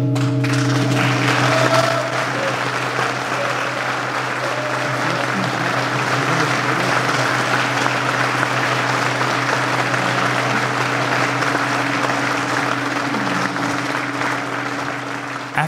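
Sustained applause from a large crowd fills a reverberant church, steady throughout with a low droning hum beneath it.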